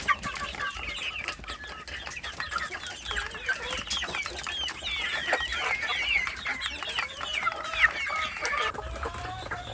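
Large free-range village chickens, young hens among them, clucking and chattering continuously at close range, several birds overlapping in a busy, uneven rhythm with no talk.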